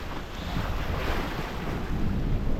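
Sailboat at sea in a 12 to 15 knot breeze, with constant wind rushing over the microphone and waves washing against the hull, loud and unbroken, with no talking.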